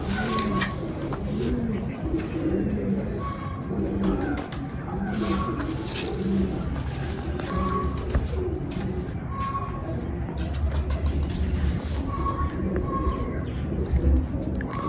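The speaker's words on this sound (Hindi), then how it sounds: "बड़ा शानदार कबूतर है जी" Pigeons, a show breed of pairing birds, coo in repeated soft, low rolling calls through the whole stretch, several birds overlapping close by, with people talking over the steady cooing.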